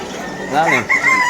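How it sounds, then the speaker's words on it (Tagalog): A rooster crows nearby at a pet market, a loud rising and falling call, with other fowl and faint background noise around it. "Lakas ng manok ngayon."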